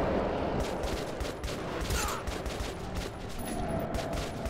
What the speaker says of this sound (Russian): здесь, конечно, одиночными выстрелами вообще бесполезно